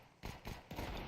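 Gunshots in the video game Valorant, three loud close shots in quick succession, each a sharp crack with a short decaying tail, no talk.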